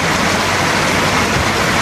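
Heavy rain pours steadily and loudly during a downpour severe enough to cause flooding, a dense continuous hiss filling the whole moment with no pauses.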